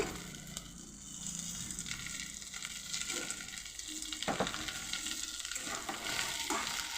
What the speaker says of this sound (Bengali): হালকা করে ভেজে এইবার এর মধ্যে আলুগুলো দিয়ে দেব